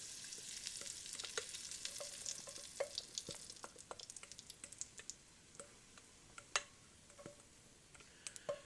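Omelette foam cooking in melted butter in a hot pan, a faint steady sizzle scattered with small pops and ticks, close and quiet, with no voices.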